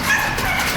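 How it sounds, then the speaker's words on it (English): Dogs bark and whimper at a hoarding property where at least 20 dogs are kept chained in kennels, a brief loud burst of close canine noise. "we've come across a property that has at least 20 dogs on it."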